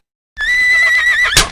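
A loud, close horse neigh used as a radio drama sound effect: one sustained whinny of about a second that rises and wavers, ending in a short breathy snort, with no talk.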